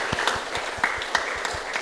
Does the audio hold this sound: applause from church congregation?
yes